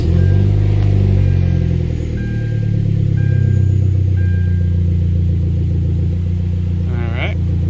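Hyundai Genesis Coupe 2.0T turbocharged four-cylinder after an oil change, its engine running loud and close with a deep steady rumble, then a brief rising sweep near the end, with a voice heard over it.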